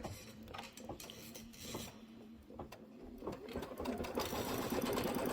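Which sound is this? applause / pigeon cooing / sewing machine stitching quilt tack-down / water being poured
sewing machine stitching quilt tack-down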